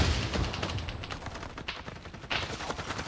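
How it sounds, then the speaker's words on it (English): Close, rapid gunfire in Call of Duty Cold War multiplayer, a steady stream of shots with a brief lull before another burst near the end. "I can't just sit here, I do have to shoot the enemy"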